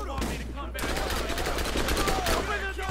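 Gunfire in the video game Borderlands, a dense burst of rapid shots running nearly continuously beneath a steady low hum, with a voice briefly heard in the background.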